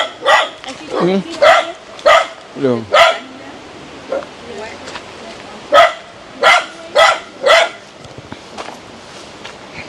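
A dog barks in short repeated bursts, several sharp woofs spaced out over the clip, interleaved with a person speaking nearby in a household setting.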